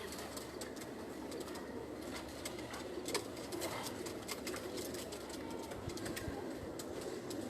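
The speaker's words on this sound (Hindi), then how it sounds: "ब्रीडर कबूतर हैं ये भी।" Breeder pigeons coo on a rooftop in Sohar, Oman, a soft continuous murmur of low calls held steady against outdoor background noise, with brief higher bird notes scattered through.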